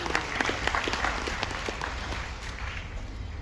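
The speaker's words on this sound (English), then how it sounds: "Congratulations, 725 points. Give them a big round of applause." Crowd applause for a team scoring 725 points at an onboard cruise ship contest, brisk clapping over a low rumbling room hum, strongest at first and then settling slightly.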